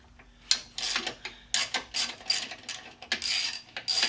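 A ratchet works a small bracket nut loose during an intercooler install on a Kia Stinger, giving close, rapid clicking bursts in short repeated strokes with brief pauses between them, and no talking.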